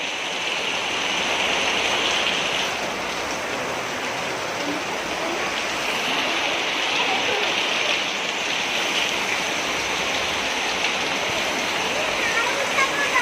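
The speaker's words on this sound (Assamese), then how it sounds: "বহুত বেছি বৰষুণ দিছে" Heavy rain pours down in a steady, dense hiss that stays loud and unbroken from start to finish.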